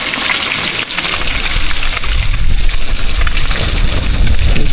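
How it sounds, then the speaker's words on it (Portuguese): Steady, dense sizzling and crackling of fish frying in a pan over a campfire in the jungle, loud and close, with no talking. "E o peixe fritando aqui, ó."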